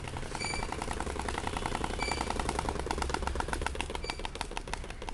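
Cardboard flaps against the spokes of a moving bicycle, producing a rapid, continuous clattering buzz like a small motorbike. It runs steadily throughout at a moderate level, with no voices.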